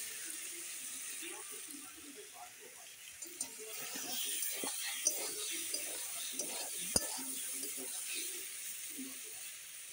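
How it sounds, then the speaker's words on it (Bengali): Sliced sweet pumpkin fries in a pan while a spatula stirs it, giving soft scraping and clacking strokes with a few sharper taps over a faint, steady sizzle. "একটু ভালো করে নেড়ে নিই।"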